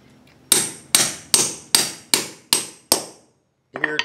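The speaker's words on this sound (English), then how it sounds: "I like to stick the end in the push rod. Just give it a slight tap." A hammer taps a lifter into the end of a cut-to-length pushrod, seven sharp, evenly spaced metallic strikes close to the microphone, followed by a short pause and a faint clatter.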